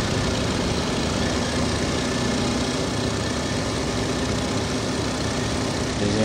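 The engine of a Hummel Z-37 crop-spraying plane drones steadily and loudly without a break in the Farming Simulator 2017 video game.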